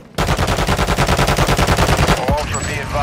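Rapid automatic gunfire in the shooter game Warzone, a fast, even burst of loud close shots that stops after about two seconds and leaves a fading echo and faint game sounds.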